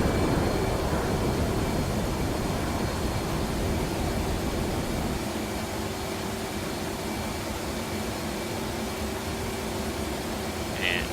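An F/A-18 jet in a flight simulator game goes to afterburner, a broad, steady roar that holds for the whole stretch and eases slightly about halfway, loud and continuous with a voice speaking over it.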